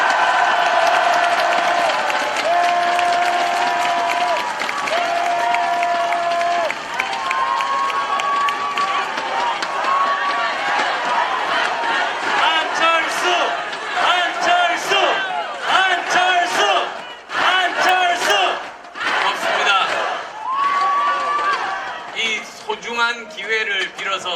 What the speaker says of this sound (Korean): 우리 모두 뜨거운 함성 박수 보냅시다.